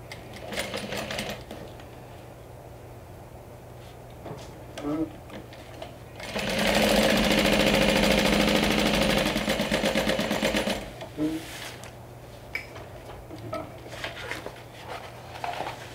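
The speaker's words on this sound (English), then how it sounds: "I'd rather not, so I'm just going to close by sewing all around the sides." A sewing machine stitches a backpack lining around the sides in one steady burst of rapid mechanical whirring lasting a few seconds, set between quieter handling noises and brief clicks.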